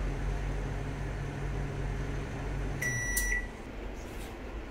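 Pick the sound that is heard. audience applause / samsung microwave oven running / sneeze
samsung microwave oven running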